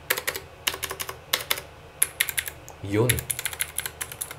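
Rapid bursts of clicky-switch keystrokes on a LANGTU LT84 mechanical keyboard fitted with aftermarket keycaps, typed close up in quick clusters with short pauses, and a single brief spoken word partway through.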